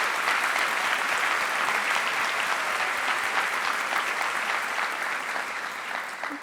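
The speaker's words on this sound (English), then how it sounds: "Can we please give a round of applause for the board and Mrs. Ramsey at this time?" A school anniversary audience gives a sustained round of applause, dense and steady throughout, easing off slightly near the end with no talking over it.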